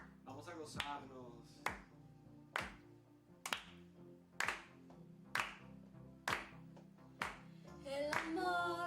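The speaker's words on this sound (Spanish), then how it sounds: "Dale un fuerte aplauso al Señor." Church congregation clapping in steady rhythm during a worship service, sharp claps about once a second over background singing and music, close and moderately loud.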